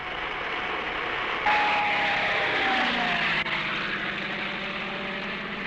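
A press plane drones overhead, a steady propeller-engine roar that holds loud and even throughout, with a slight pitch shift midway as it passes.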